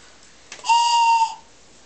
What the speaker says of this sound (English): That's a choo-choo whistle.